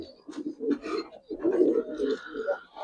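Coos from Giribaz pigeons, a pair of red-eyed birds, sound in a steady string of low murmuring calls that hold nearly the whole time and rise in the middle. Faint voices may be underneath.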